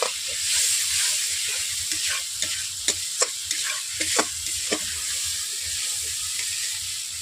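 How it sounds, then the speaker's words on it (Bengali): Spices and ingredients for a rohu fish curry with khamalu yam and potato are sautéed in a pan after a splash of water, a steady close sizzle broken by scattered clacks of a spoon stirring. "জল দেওয়ার পর আমি এভাবে সব উপকরণ দেওয়ার পর মশলাগুলোকে আমি পাঁচ মিনিট ধরে কষিয়ে নিচ্ছি"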